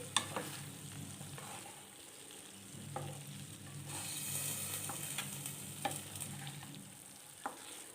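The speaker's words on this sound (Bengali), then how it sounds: "এই সময় আমি আরেকবার নেড়ে নেব।" A spatula stirs pointed gourd and potato curry with whole garlic in a pan, scraping softly while the food sizzles steadily underneath. There are occasional clinks against the pan, and no one speaks.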